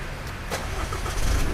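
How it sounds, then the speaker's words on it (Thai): A car engine started by remote start idles with a steady low rumble, a brief burst near the middle and a slight swell in low-end loudness toward the end, with no talking. "รถติดเครื่องแล้วนะครับ"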